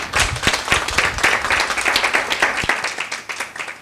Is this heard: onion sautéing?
no